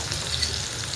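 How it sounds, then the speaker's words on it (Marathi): Chopped onion with cumin and bay leaves fries in hot oil, a close, continuous sizzling hiss with a light crackle throughout and no voices. "छोटेसे 2 तमालपत्र टाकूया आणि कांदा टाकूया तळण्यासाठी"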